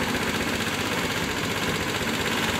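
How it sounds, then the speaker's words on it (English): A GY6 scooter engine idles low and steady just after starting, a loud, close, continuous rumbling putter with no talking. "She started right up. A low idle until she warms up."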